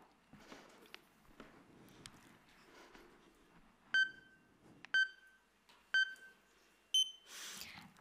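Four short electronic beeps, evenly spaced about a second apart, sound on a stage before a timed competition talk starts; they ring out clearly over faint room noise and footsteps and are followed by a brief burst of applause.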